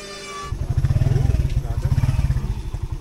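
Tuk-tuks and motorbikes stuck in a traffic jam in Ella, Sri Lanka, with a close small engine chugging in rapid, pulsing beats under a brief voice at the start.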